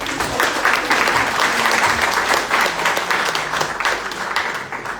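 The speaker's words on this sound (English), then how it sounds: "Can we have a round of applause for him?" Loud, dense audience applause, a continuous wash of many hands clapping close by for the whole stretch.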